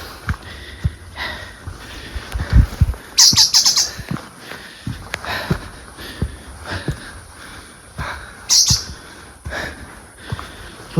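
Brief bird calls and chirps on a misty mountain trail on Mount Lawu, a few short bursts scattered among rustling and sniffing sounds, fairly faint and without talk.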